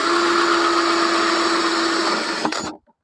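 A steady high-pitched power drill with a hole saw whirs continuously while making a five-gallon bucket chicken feeder, then winds down and stops abruptly near the end.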